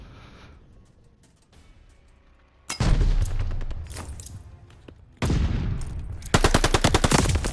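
Loud gunfire in a shooter video game: a faint rattle first, then heavy bursts of automatic fire. A sharp, rapid string of shots closes the sequence.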